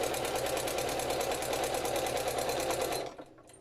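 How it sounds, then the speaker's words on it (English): A sewing machine stitching threads onto handmade paper ephemera, a loud, close, fast steady whir of needle strokes that runs for about three seconds and then stops abruptly. "So I'm about to sew those threads on,"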